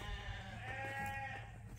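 Sheep bleat in a sustained, wavering call on a farm as the flock is gathered in for the night, a steady close cry over a low rumbling background with no talk.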